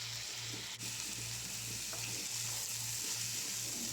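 Chopped onion and tomato sautéing in a pan give a steady, soft sizzle, with faint scraping and stirring taps from a spoon breaking the hiss now and then.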